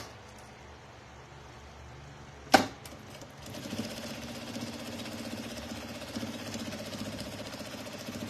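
A sewing machine stitches a strap onto an insulated thermal carrier: a sharp knock is followed by a steady, rapid mechanical whirring with rhythmic needle clatter, close and moderately loud.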